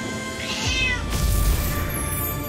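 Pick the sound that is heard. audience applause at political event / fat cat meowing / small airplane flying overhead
fat cat meowing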